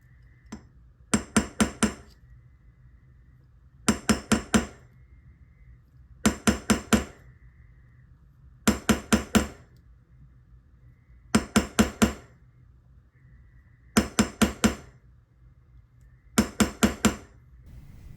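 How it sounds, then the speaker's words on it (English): A dome-faced punch taps the rivet of a Rolex balance staff in bursts of three or four sharp metallic clinks, repeated about seven times at regular intervals with quiet gaps between. "A series of taps from the dome-faced punch of the correct size expands the rivet of the staff"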